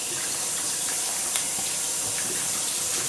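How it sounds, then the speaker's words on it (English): Rice cakes are rinsed in a strainer under a running kitchen tap, a steady, close hiss of flowing water that stays constant throughout with no talking. "Do a nice little rinse."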